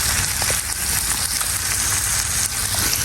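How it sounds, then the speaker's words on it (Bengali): Fish frying in a pan on a home stove gives a steady, dense sizzle and crackle that runs unbroken and fairly close, with no talking. "এদিকে মাছটাকে ভাজি করতেছি"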